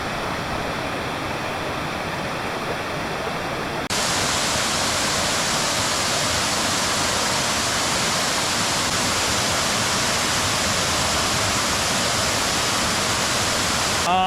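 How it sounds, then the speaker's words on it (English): Waterfall at Thompson Headwaters near Sapphire, North Carolina, a loud, steady, broadband rush of falling water that swells noticeably fuller a few seconds in and then holds unbroken. "really nice waterfall"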